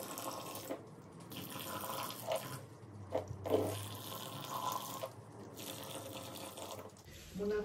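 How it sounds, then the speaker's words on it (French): Water pours from a watering can onto seedling pots in a steady, splashing stream with brief pauses, close by, while a person speaks quietly in the background. "on va arroser"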